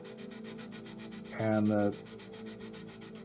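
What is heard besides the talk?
sanding a model kit with a 320 grit sanding stick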